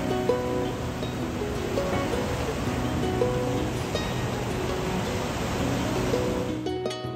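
Ocean waves wash steadily at a surf beach in Hilo, Hawaii, a continuous broad roar of surf at moderate distance that stays even throughout, with no speech.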